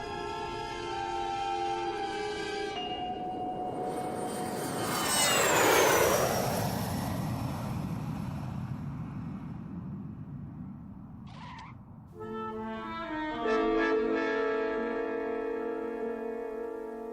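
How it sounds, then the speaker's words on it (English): Airliner landing as a radio drama sound effect: a steady drone of aircraft engines that swells into a loud sweeping roar as the plane passes close, then settles back to a continuous hum with musical tones. "Ladies and gentlemen, in a few moments we shall be landing."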